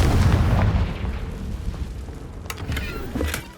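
A Confringo blasting spell from Hogwarts Legacy goes off with a loud, rumbling explosive boom that decays into a low roar, followed by a few fainter crackling bursts.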